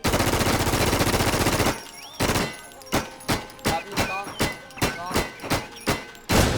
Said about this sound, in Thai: สังเกตได้ว่าความเร็วในการไล่กระสุนจะเร็วมากครับ